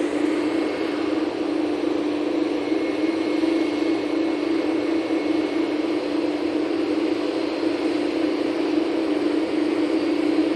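A heavy jet airliner departs Manchester Airport, its engines a loud, steady broadband roar with a strong sustained drone, unbroken and close throughout with no talk.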